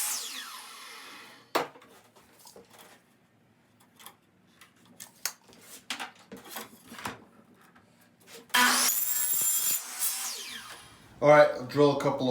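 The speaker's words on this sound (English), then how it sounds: "I'll drill a couple of holes so I can mount it." A power drill bores holes to mount a bracket in a workshop, heard as short bursts of whirring and a longer sustained grind near the end, with scattered clicks and handling noise between.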